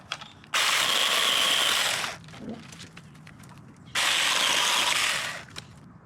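A ratchet pruner cuts apple tree branches in two bursts of loud rasping ratchet clicks, each lasting over a second, with a quieter gap between them.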